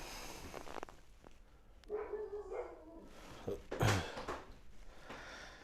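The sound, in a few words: dog barking excitedly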